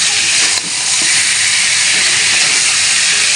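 Country chicken, rubbed with salt and turmeric, sizzles as it is sautéed in a wok, giving a loud, steady, unbroken frying hiss with no voices.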